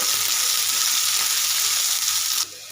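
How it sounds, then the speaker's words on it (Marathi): Washed moth beans hit hot oil in a pan with a loud, close, steady sizzle that drops sharply near the end. "ही स्वच्छ धुवून घेतलेली मटकी याच्यामध्ये आपल्याला घालून घ्यायची आणि तेलामध्ये अगोदर फ्राय करून घ्यायची"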